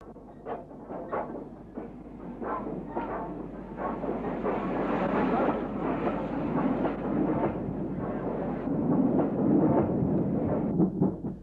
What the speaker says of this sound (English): a haul tows two once proud Castle class locomotives to the scrapyard